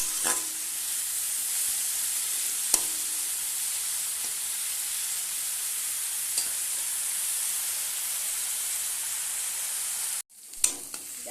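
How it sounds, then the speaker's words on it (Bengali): Leafy greens frying in a pan with salt, a continuous bright sizzle and hiss with a few sharp scraping stirs and a brief pause near the end before the frying resumes. "শাকটা ভাজলে পরে ভালো করে লাল লাল করে ভাজতে হবে"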